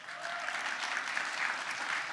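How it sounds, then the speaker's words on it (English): A crowd claps steadily in a brief burst of applause, dense and even, heard from a moderate distance. "Round of applause."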